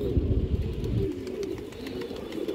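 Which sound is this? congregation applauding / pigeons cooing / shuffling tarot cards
pigeons cooing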